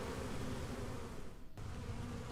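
Honey bees swarm around a hive fitted with an entrance queen excluder, a faint, steady buzzing hum from many insects with no voices.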